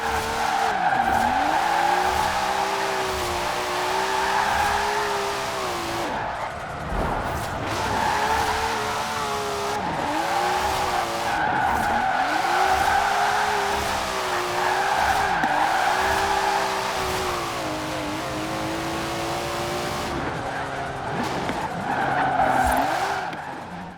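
An engine-swapped car in Forza Horizon 4 roars and howls through repeated rev surges while its tires squeal and skid in long waves, loud and continuous with no voices.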